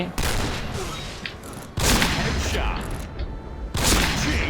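Heavy L115A1 sniper rifle shots in a video game: three loud, sharp blasts spaced about two seconds apart, each trailing into a dense, sustained roar of game noise.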